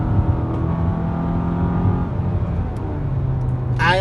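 Kia Sorento 2.5L, a seven-seat all-wheel-drive SUV from 2022, accelerating hard with full throttle; a steady, close engine drone with rising harmonic tones holds throughout, ending with a brief sharper burst.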